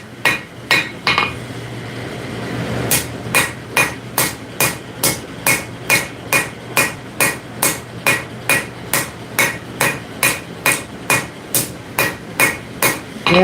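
Steady, evenly spaced hammer blows planishing cooling steel on an anvil while smoothing rebar at a forge, ringing sharp and metallic, close and loud, about two strikes per second after a few irregular opening hits.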